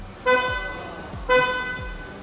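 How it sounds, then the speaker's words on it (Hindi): A 2001 Toyota Corolla's car horn honks twice, two short loud toots about a second apart, close by. "इस गाड़ी का हॉर्न इस तरह साउंड करता है"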